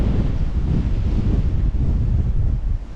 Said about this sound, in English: Cold wind, guys. Cold, cold, cold.